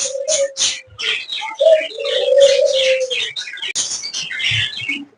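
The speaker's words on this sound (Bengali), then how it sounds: "আমি কবুতরগুলো একইভাবে খাবার দিচ্ছি" Pigeons feeding on grain mixed with raw turmeric coo and chirp nearby, with a steady low cooing tone running under repeated bright chirps throughout and no talk.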